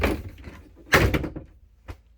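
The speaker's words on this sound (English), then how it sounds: "It uses magnet latches, which seem to do a lot better on these bifold doors like this." A solid wood bifold door in a 2019 Berkshire camper closes and catches on its magnet latch, a short thunk with a rattling clack, followed by a softer tap a moment later.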